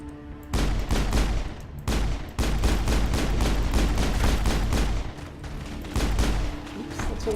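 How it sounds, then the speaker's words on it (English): Rapid gunfire from the video game Mass Effect, aimed at robots, comes in sustained loud volleys with brief gaps between bursts. "Oh, shooting robots."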